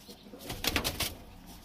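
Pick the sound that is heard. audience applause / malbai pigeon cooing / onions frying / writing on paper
malbai pigeon cooing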